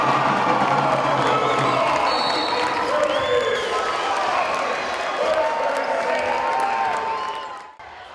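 A raucous crowd at a high school basketball game cheers and shouts continuously, with sneaker squeaks and ball bounces mixed in, loud and sustained before tapering off near the end.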